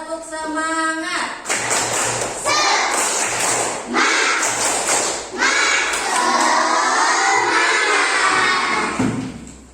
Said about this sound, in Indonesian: kita tepuk semangat dulu ya. Siap? Iya. Tepuk semangat.